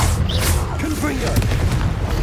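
A Confringo blast spell cast in Hogwarts Legacy, heard as a deep boom among quick zapping and crackling effects over steady low battle noise, with faint vocal sounds mixed in.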